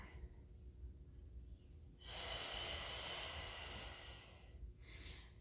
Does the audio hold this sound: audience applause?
no